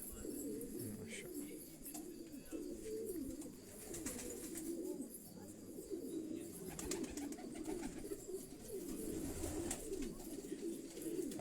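Soft, repeated racing pigeon coos fill a loft in a steady low murmur, with faint chirps and rustling in the background and no talking.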